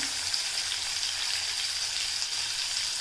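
Finely chopped onion frying in hot oil with asafoetida for a dry-fish masala gravy: a steady, dense sizzle that holds evenly throughout, close and fairly loud, with no talking.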